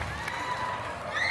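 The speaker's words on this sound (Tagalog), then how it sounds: "Grabe yung mga hiyawan ng mga tao." A brief burst of crowd cheering for a performer, with shouts and high screams over a noisy din.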